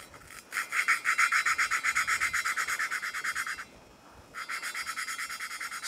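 Gritty rhythmic rubbing of valve lapping on a Polaris RZR engine top end rebuild, quick back-and-forth strokes repeating steadily, close and fairly quiet, pausing briefly before resuming.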